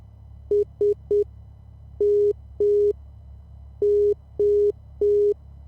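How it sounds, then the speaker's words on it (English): Morse code identifier of the Seal Beach VOR tuned on 110.8 in a Cessna 172 flight simulator: steady mid-pitched tones in short dots and longer dashes, repeated in clear spaced groups over a low hum. "we could listen to the Morse code on that."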